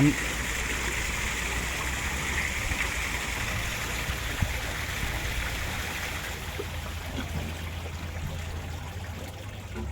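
Tugboat discharging water into the Pattani River at a fishing port, a steady rushing pour of water under a faint low engine drone.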